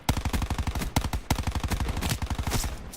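Gunfire rattles through a Call of Duty Blackout match in rapid, evenly spaced bursts, loud and close, with a brief gap before the shooting resumes; no one talks.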